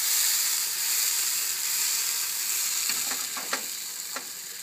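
Liquid sizzles and bubbles as it boils down in a hot pan while salmon is cooked, with a steady hiss and a few sharp crackles and pops near the end.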